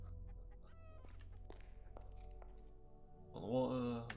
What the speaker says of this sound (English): The chickens are everywhere.